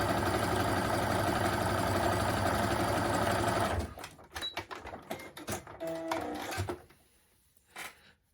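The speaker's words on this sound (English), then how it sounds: "So I'm now going to try it on the other stretch stitch" Sewing machine running a stretch stitch at stitch length 1: a steady, fast mechanical whirr for several seconds, then stopping into scattered clicks and handling noises.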